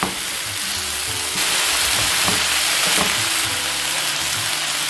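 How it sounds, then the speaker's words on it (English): Chicken and vegetables stir-frying in a pan give a steady, loud sizzle throughout, growing a little fuller partway in, with scattered clinks and scrapes from the stirring. "I'm going to stir fry these for about a minute or 2"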